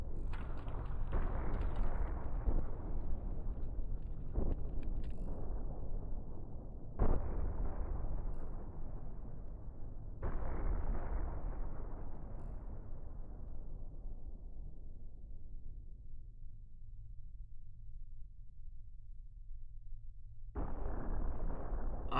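Ammunition depot explosions go off in the space-combat game Cosmoteer: a series of deep, booming blasts, each trailing off into a long rumbling fade, loud and free of any talk.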